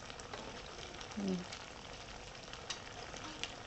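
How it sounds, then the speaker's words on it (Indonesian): Quiet, steady sizzling of shaped cassava dough submerged and frying in oil, a continuous crackling hiss with a few small pops, no talking. "saya masih menggoreng yang sisa balitung yang dibentuk tadi ya"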